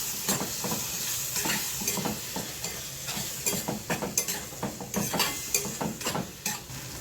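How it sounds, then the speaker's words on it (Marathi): Tomato paste frying and being stirred in hot oil for egg bhurji, with a steady sizzle under repeated scraping strokes of a utensil against the pan, fairly close and continuous. "ह्याच्यामध्ये मी टॅमॅटोची पेस्ट टाकते वाटलेली टॅमॅटो पण आपल्याला छान तेलावर परतून घ्यायचं आहे"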